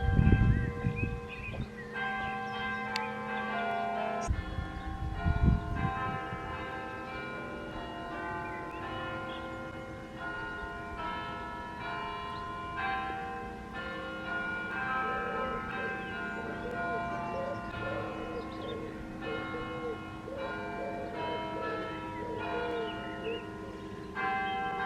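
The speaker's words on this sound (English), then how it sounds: "just in time to enjoy the 4 o'clock bells" Church bells ring out the four o'clock hour, heard from a garden as a steady, fairly distant peal lasting the whole stretch, with a few nearby bumps and voices at the start.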